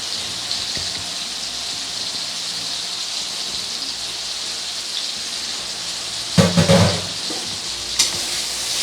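Mustard paste dropped into a pan of Bihari-style katla fish curry, giving a steady hiss of sizzling with a brief louder spatter and stir near the end.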